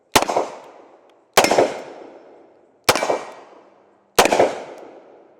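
A Smith and Wesson 640PC revolver fires four loud .38 rounds alone, each a sharp bang followed by a ringing decay, spaced roughly a second and a half apart.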